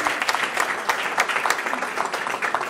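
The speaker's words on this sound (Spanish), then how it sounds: "Le aplaudimos." Audience applause at a public gathering in Madrid about a pact for public radio and television, a dense, steady patter of many hands clapping with a few sharper claps standing out.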